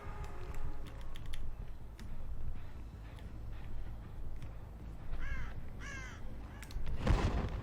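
Crows caw in the Dead by Daylight horror game, a few clear raspy calls in the middle of the clip over a low ambient rumble and clicking keyboard keys.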